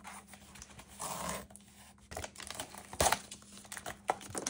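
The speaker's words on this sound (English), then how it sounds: "So let's peel the sticky back." Adhesive backing strip peeled from a MacBook Air M1 trade-in shipping box, giving close crinkling and tearing rustles in uneven bursts with a sharper rip near the end.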